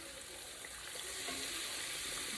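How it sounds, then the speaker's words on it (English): Pork chops fry in a pan with a soft, even sizzle and faint crackles, heard quietly and steadily throughout with no talk. "Flip these pork chops"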